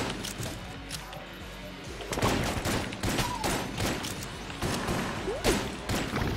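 Gunfire in the video game Enter the Gungeon, a string of sharp shots and bursts over busy game sound, fairly faint, with no voices.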